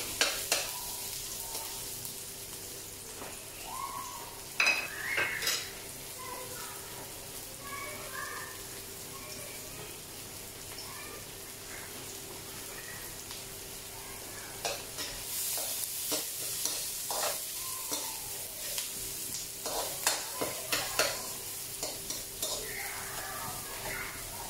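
Garlic and onion sautéing in a pan for a shrimp pancit canton, a steady soft sizzle with intermittent clinks and scrapes of stirring, busier toward the end.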